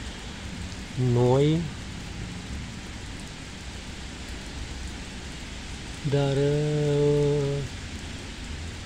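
Steady rain falls over the small town of Târgoviște, a continuous soft hiss filling the background while a voice speaks briefly twice over it.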